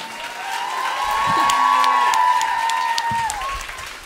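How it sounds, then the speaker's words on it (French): A live audience breaks into full, dense applause for a guest named Mathieu Dufour. The clapping swells and holds steadily for several seconds, with whoops and cheers rising over it before it eases off. "Bonne main d'applaudissement pour Mathieu Dufour avec le TH."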